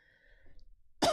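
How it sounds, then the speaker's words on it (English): A single sharp cough bursts out close and loud after near silence, brief and alone with no talk. "The first cough wasn't enough."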